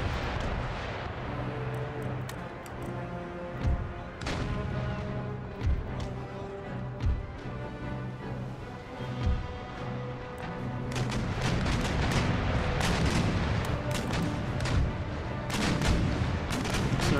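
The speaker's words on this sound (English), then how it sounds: "I don't like to fire broadside into the brig" A sailing warship fires its broadside cannons in an Empire Total War sea battle, with a string of deep, booming shots at irregular intervals over a continuous roar of battle, swelling into a dense, heavier barrage toward the end.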